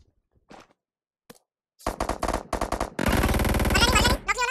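Automatic gunfire in PUBG Mobile: after a few faint sounds, short rapid bursts of shots ring out, then a long sustained burst of loud, close firing that continues almost to the end.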